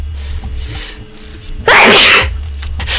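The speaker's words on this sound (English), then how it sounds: "I have to sneeze." A single loud, close sneeze bursts out sharply against quiet background noise.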